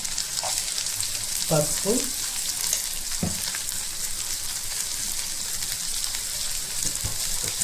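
Vegetables for sweet corn veg pulao frying and being stirred in a pan with salt, chilli powder and turmeric, a steady close sizzle with occasional scraping stirs and brief soft talk.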